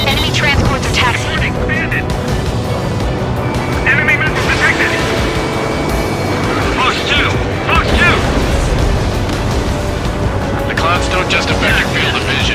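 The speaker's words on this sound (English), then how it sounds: "Enemy transports are taxiing." Heavy military transport aircraft taxiing in the Ace Combat 7 combat flight game, a dense continuous engine roar with booming rumble and mechanical whine throughout, loud and close.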